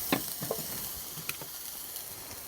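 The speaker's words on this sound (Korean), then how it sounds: "올리브 기름에다가 파. 파를 좀 볶아주고요" Chopped scallions fry in olive oil in a pan at a forest campsite, giving a soft, steady sizzle broken by a few sharp pops and crackles as they are stirred.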